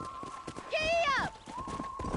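A horse gallops in the Red Dead Redemption western video game, with rapid hoofbeats running beneath a short shouted voice and a brief whinny-like cry midway, backed by a steady musical tone.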